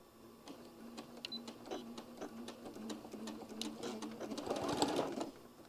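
A sewing machine stitches a drawstring seam forward and then back, a close, quiet run of rapid mechanical clicks in short bursts that quickens toward the end, with no talking.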